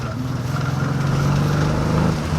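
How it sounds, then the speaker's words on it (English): A BMW E28 or E30 engine with a failing in-tank fuel pump drones steadily at a low pitch, revving without climbing, the car not accelerating, the sound holding flat and labored for a couple of seconds. "You hear that? The car is just not taking off."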